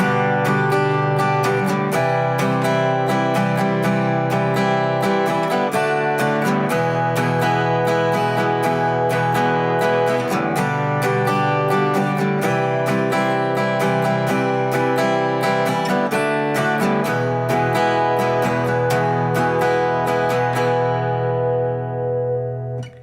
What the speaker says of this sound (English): you can just leave the D a little early to get to the E on the downbeat